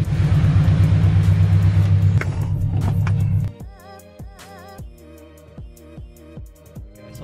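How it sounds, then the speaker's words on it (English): A Subaru BRZ with an unequal length header gives a deep, loud exhaust rumble under acceleration for about three seconds, then drops to a lower idle-like burble with rhythmic pulses, heard alone with no talking. "the header makes that awesome Subaru rumble"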